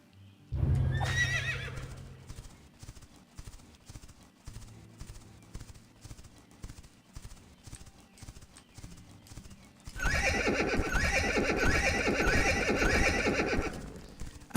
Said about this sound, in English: this game has fantastic sort of horse sound effects